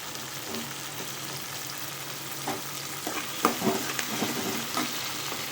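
Onions and tomato sautéing in a pan for tomato chutney, a continuous close sizzle and crackle with occasional spatula scrapes and stirring clatter, no talking.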